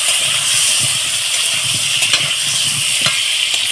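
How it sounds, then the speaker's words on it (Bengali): Cut potatoes fry in hot oil in a pan while a chicken curry is being prepared, giving a steady, close, hissing sizzle with no talking. "আলুটা একটু ভেজে নেব।"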